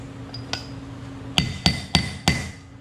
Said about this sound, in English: And then we're going to tap it down with a mallet or a hammer.